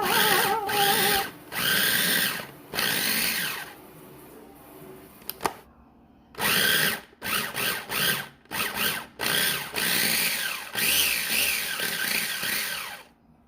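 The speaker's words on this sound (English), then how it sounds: "so I'm going to add some shrimp to my Cuisinart. And we're gonna puree this into a soft mixture" A Cuisinart food processor purees shrimp. Its motor whirs loudly in repeated pulses of varying length, separated by short pauses, with a rattling, grinding texture close by and no talking.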